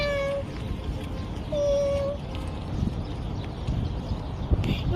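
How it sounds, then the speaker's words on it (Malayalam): A small street cat in Kuwait gives a few clear meows, one near the start and a longer one around the middle, fairly close against steady outdoor background noise. "അവിടെ ഒരു പൂച്ചക്കുട്ടി ഇരിപ്പുണ്ട്"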